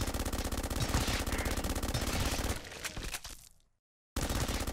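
Rapid automatic gunfire rattles loudly and continuously in the sci-fi survival game GRAV Reborn, then breaks into a few separate shots before cutting to brief silence and starting up again at full volume.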